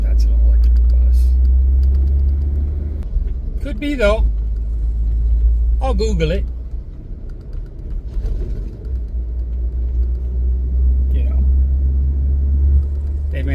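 A big truck's diesel engine idles nearby, a deep continuous rumble that stays steady throughout, with a person talking over it now and then.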